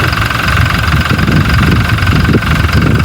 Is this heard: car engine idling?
yes